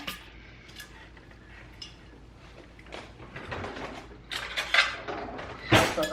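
A butter knife scrapes dried herb salt off a lined baking sheet in a series of scratchy, clattering strokes that grow louder and busier toward the end, with no speech.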